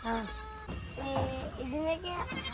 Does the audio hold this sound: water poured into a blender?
no